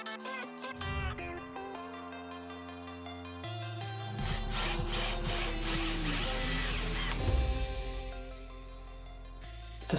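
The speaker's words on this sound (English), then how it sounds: "We're going to use this bad boy for drilling the holes through the metal legs." A vintage Makita power drill whirs steadily, its motor pitch rising and falling as it bites into metal table legs, loud and close with a brief pause partway through.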